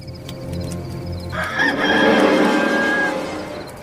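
A rooster crows loudly and close by, one long drawn-out crow running through most of the clip over a low background hum.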